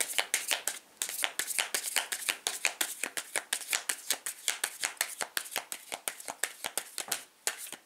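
Tarot cards riffle-shuffled up close in a fast, steady run of crisp flutters and snaps, with a few brief pauses between bursts.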